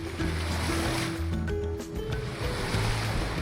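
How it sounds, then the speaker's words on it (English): Waves and ocean swell wash steadily nearby, with a low rumble and some wind buffeting the microphone. "here comes some swell and some current"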